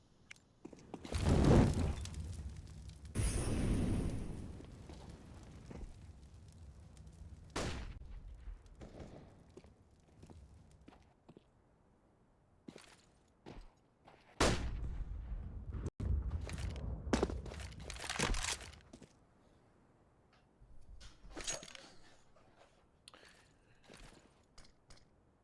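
Held HE grenades going off in Counter-Strike on the Dust2 map during a competitive match, several dull booms and bursts scattered across the stretch amid quieter in-game movement and footsteps.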